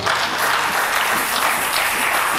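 A church congregation breaks into loud, steady applause with scattered cheering, a dense wash of clapping that fills the whole moment without letup.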